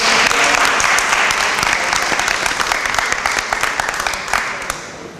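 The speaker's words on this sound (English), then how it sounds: "Round of applause." A round of applause breaks out from a gathered audience, close and loud with sharp individual claps in a dense patter that slowly tapers off.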